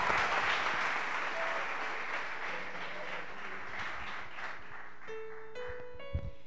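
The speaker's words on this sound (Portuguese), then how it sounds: "Vocês podem me ajudar com uma salva de palmas ao Senhor?" A church congregation gives the Lord a round of applause, dense sustained clapping from many hands filling the room for several seconds before tapering as instrumental tones begin.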